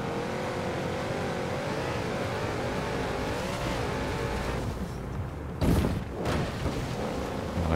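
A Porsche Cayenne in Forza Horizon 4 drives uphill off-road, its engine droning steadily and loud, with a sharp thump and brief roar surge near the end.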